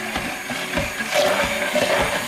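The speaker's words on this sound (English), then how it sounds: "I'm gonna get my handy dandy hand mixer, put it on low, and I am going to push it down." An electric hand mixer on low speed churns through pizza sauce, a close, moderately loud whirring hum with uneven mechanical rattles and gurgling pulses for a couple of seconds.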